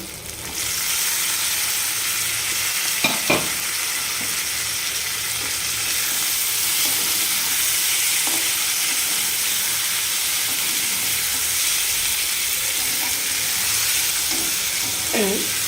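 Small puti fish frying in spiced oil, a continuous close sizzle with a couple of brief utensil knocks and spatters.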